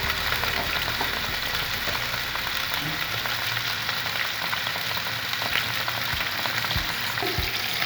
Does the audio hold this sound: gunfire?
no